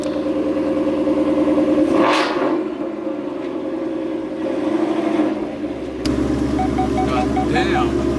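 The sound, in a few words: supercharged Mustang accelerating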